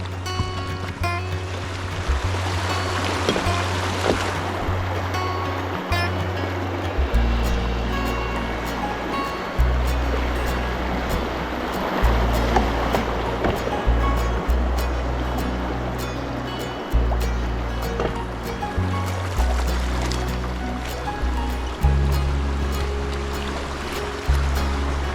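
Paddling a canoe or kayak on a river on a sunny day, with water sloshing and trickling steadily around the hull and a low rhythmic hum running underneath, no voices.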